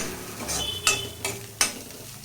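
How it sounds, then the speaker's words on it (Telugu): Spoon stirring lemon juice through cooked spinach rice (palak rice) in a pan, a few soft scraping strokes with low sizzle underneath, close and fairly quiet, no talk. "నిమ్మకాయ రసాన్ని పిండుకున్న తర్వాత రైస్కి నిమ్మకాయ రసం బాగా పట్టేటట్టు ఇలా అంతా కలిసేటట్టు కలుపుకోవాలి"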